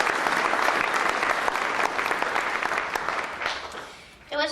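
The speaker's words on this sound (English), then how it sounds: "I think that we will clap to welcome Amy Nordquist." An audience claps to welcome a speaker to a faith story talk, a dense, sustained round of applause that stays even and loud, then thins out as it ends.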